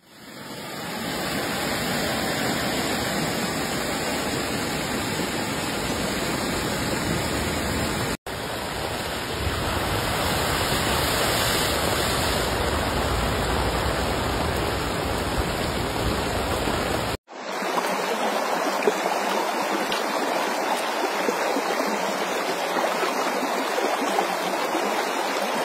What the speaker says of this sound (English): showed water gushing from a drain and